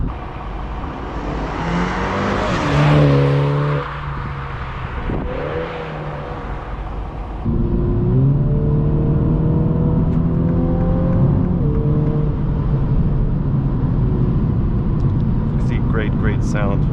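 A 2022 MINI Cooper JCW GP Edition engine heard from outside, rising in a couple of rev sweeps then holding a steady higher drone, fairly loud with wind buffeting the microphone.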